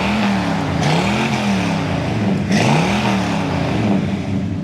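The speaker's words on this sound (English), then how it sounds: "Great sounding dual exhaust." A 1972 Chevrolet Chevelle with dual exhaust idles close by, a loud, deep, steady burble with slight rhythmic lope and no talk over it.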